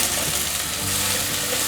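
Carrots and shiitake-style mushrooms stir-fry in oil in a wok, a loud constant sizzle with scraping and tossing of the ingredients.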